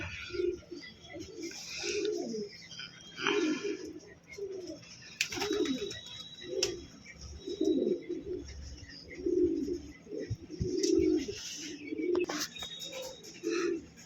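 Pigeons kept for sale cooing steadily, a series of soft, low rolling coos repeating every second or so, fairly close, with occasional faint chirps of other birds in the background.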